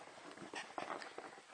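A Yorkipoo dog whimpers and whines excitedly at close range in short, uneven bursts, greeting its owner as they come home after a full work day.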